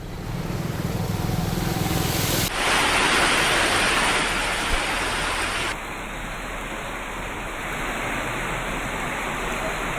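Heavy monsoon downpour over flooded city streets, a loud, constant broadband roar of rain that shifts abruptly in tone between scenes, with faint traffic underneath.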